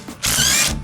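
A power tool whirs hard for about half a second, spinning the inside of a strut on a 1972 Volkswagen Super Beetle. The burst is sudden, loud and close, with quieter mechanical rattling before and after.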